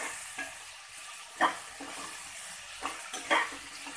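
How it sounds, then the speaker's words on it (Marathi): Chopped onion sautés over low to medium flame as a spoon stirs it around the pan, a soft sizzle broken by a few sharp scraping clatters, close by with no talking. "कांदा आपला लालसर होईपर्यंत आपण परतून घ्यायचा आहे."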